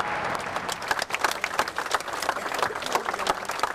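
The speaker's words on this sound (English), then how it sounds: "a round of applause" Applause for firefighters leaving Grenfell Tower after the fire, a steady outdoor round of clapping from a crowd, dense and continuous with a few sharper individual claps standing out.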